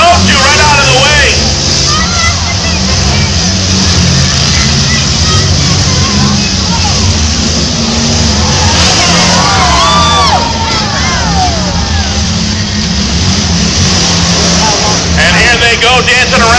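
Demolition derby cars at the Skowhegan State Fair shove and pile up in the arena, their engines a heavy, continuous rumble beneath loud crowd cheering and shouting, with a commentator talking over the din.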